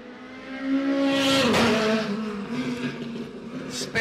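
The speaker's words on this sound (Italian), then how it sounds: "Spettacolare il rumore alla cambiata sia per Leo Albano" A Renault Clio Super 1600 rally car engine screams at high revs, dips sharply at a gear change, then climbs again, loud and close.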